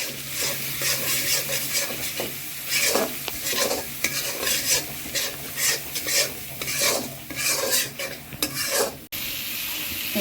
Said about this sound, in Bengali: আমি খুব সুন্দরভাবে ভালোভাবে কষিয়ে নিয়েছি